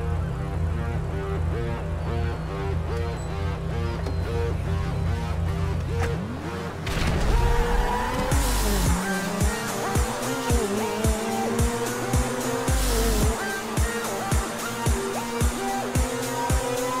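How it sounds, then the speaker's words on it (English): Turismo R and Cheetah supercars in GTA 5 drag race, starting from a loud, revving idle. Engines then scream up through rising gear sweeps with sharp shifts and rapid rhythmic pulses, loud and close, with no talk. "To find out, we will need to do a drag race."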